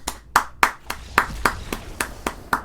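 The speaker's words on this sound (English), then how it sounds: "A big round of applause to myself." A single person claps hands in a steady rhythm, about ten sharp claps close to the microphone with no talking.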